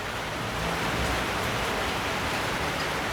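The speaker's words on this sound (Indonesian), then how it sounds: "karena hari hujan dan jalannya juga cukup becek" Steady rain falls on a muddy road at a construction site, a dense, even hiss of drops that continues unbroken at moderate loudness with no voices.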